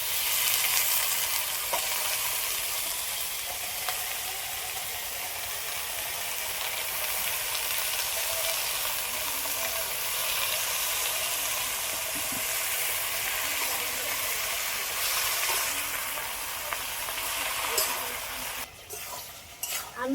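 Spinach and potatoes with spices being stir-fried in a pan give a steady, close sizzle with faint scraping of a spatula, continuous for the whole stretch with no one talking.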